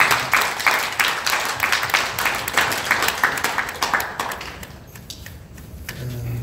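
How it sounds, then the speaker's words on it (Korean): A church congregation claps together at a weekday dawn prayer service, a dense, steady patter of many hands lasting several seconds before tapering off, with no talking over it. "우리 하나님께 감사와 영광의 박수를 한번 올려드립니다"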